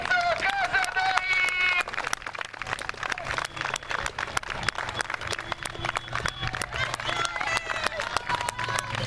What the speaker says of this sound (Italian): un applauso per Lorenzo Casadei